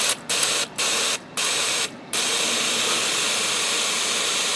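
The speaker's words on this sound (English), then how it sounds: "A lot of that brake cleaner in there." Brake cleaner sprays into a bolt hole on a KTM motorcycle: a loud, close, steady hiss cut by three short pauses, then one long unbroken blast to the end.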